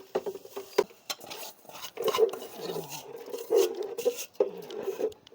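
A spoon stirs sago (javvarisi) batter poured into boiling water in a cooking pot for vathal, scraping and knocking against the pot in an irregular series of close, moderately loud strokes.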